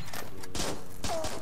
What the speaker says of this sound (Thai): เสียงปืนมึงเทพอ่ะเดี๋ยวฟังเสียงหน่อยครับ